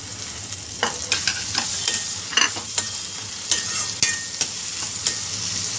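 Tomato tossed into softened onions for a mutton keema with greens dish, sizzling steadily in a pan while a spatula scrapes and taps in a regular rhythm of stirs, close up with no voices.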